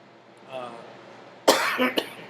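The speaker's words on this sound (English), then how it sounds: "I keep coughing" Someone coughs twice, sharp and close, after a moment of faint murmuring.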